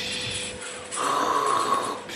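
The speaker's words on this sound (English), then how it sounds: "I was snoring, and once you hear I'm snoring, you know I'm tired." A woman snores in bed, a slow raspy breath drawn in close to the mic against a quiet room.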